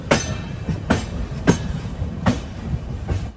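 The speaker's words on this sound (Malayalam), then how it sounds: "വിജയനഗര റെയിൽവേ സ്റ്റേഷനിലേക്ക് നമ്മുടെ ട്രെയിൻ എത്തിക്കൊണ്ടിരിക്കുകയാണ്" A sleeper-class express train rolls into Vizianagaram station, its wheels clacking over rail joints in a steady, evenly spaced rhythm under a continuous low rumble, heard from inside the carriage.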